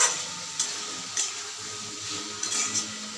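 Mango masala masoor dal sizzles in a pot while a spoon stirs it, soft continuous frying hiss with a few light clinks of the utensil against the pot.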